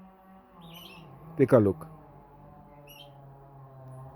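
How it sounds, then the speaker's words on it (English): Birds chirp in a natural outdoor setting, a few quick high tweets scattered over a steady low hum, while someone speaks briefly near the middle. "Check out these beautiful birds."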